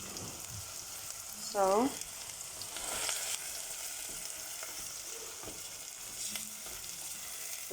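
Meat for lasagna sizzles as it browns in a hot pan on a gas stove, a steady frying hiss with stirring scrapes and a short voice sound near the start.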